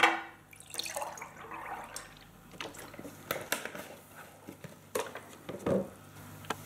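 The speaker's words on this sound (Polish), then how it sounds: "W pierwszym kroku nalewamy mleko do szklanki." Milk is poured into a glass at close range, heard as quiet, uneven splashes and small drips with faint clinks against a near-silent background.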